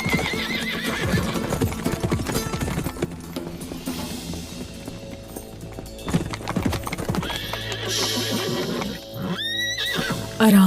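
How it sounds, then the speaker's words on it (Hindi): A horse gallops with rapid hoofbeats and neighs loudly, with a busy dramatic score, ending in a high whinny. "घोड़े का रास्ता रोको, जाओ उसे पकड़ो।"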